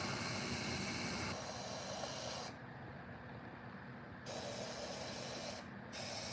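Spray paint hissing from an aerosol can in a steady, loud stream, pausing briefly midway and then resuming in short bursts, close by and with no voices.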